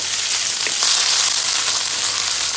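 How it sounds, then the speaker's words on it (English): Whole garam masala spices sautéing in hot oil in a pan for a Kerala-style chicken biryani, a continuous close bright sizzle with faint stirring scrapes, no talk. "whole garam masalas, then saute very well"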